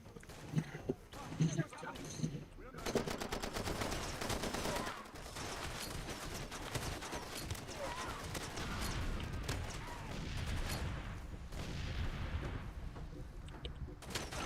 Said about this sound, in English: I could hear the gunfire